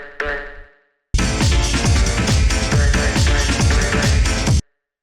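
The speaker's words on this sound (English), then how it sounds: "the final thing that we have down here is this little vocal stab" A short vocal stab sample from a jungle rave techno track rings out briefly, then a dense, loud full-mix loop kicks in with steady driving drums and bass for several seconds before stopping abruptly.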